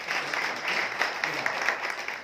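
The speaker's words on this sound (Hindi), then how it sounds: "तो एक बार जोरदार तालियां होनी चाहिए।" Audience applause at a business talk in Ahmednagar, a soft, somewhat distant wash of clapping with faint individual claps poking through, sustained and fairly quiet.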